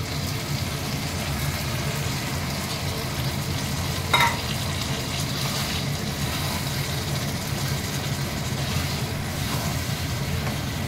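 Chilli chicken sizzles steadily in a hot pan up close as sauce is added and stirred in, with one sharp clink of a utensil partway through.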